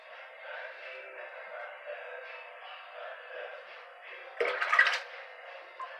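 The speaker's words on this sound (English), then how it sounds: "I am using cold water for all my rinsing and my cleaning the blade off." A razor blade is rinsed in a bowl of cold water, with a soft, steady wet wash, then a short burst of splashing and swishing near the end.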